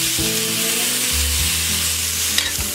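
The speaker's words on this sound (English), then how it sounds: "And then I'm gonna go ahead and add our steak." Steak sears loudly in a hot cast iron pan, a dense steady sizzle with low scraping and rumbling as the meat is shifted side to side, lasting throughout with no talk.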